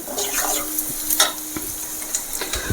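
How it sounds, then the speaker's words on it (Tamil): Chopped onions sauté and sizzle in a pan for a Tamil vallarai keerai egg stir-fry, with steady close frying hiss broken by several sharp stirring scrapes and clinks, no talking. "வெங்காயத்தை நல்லா வதக்கிங்க"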